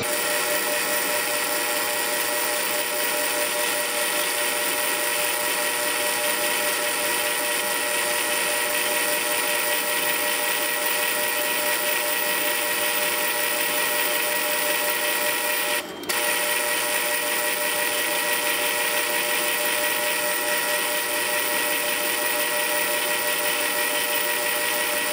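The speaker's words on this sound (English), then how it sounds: "the first thing we're gonna do is make some facing passes" A South Bend Model A metal lathe runs steadily while making facing passes on the front surface of a spindle thread protector, a constant mechanical whine and hum with a brief dropout partway through.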